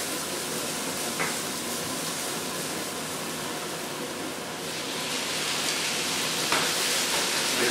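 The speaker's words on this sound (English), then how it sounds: "The onions have been frying for a few minutes now with the garlic and the cashew nuts and the kale." Onions sizzling in a pan with garlic, cashew nuts and kale, a steady soft frying hiss that continues evenly throughout with a couple of faint clicks, no talking.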